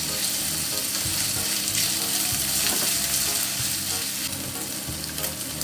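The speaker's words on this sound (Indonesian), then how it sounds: "Lalu kita masukkan cabai, bakso, dan juga bawang putihnya. Ini kita tumis sampai harum." Chili, meatballs and garlic are stir-fried in a pan, giving a loud, steady sizzle with a dense crackling hiss and occasional low scraping from stirring, all close and continuous with no talking.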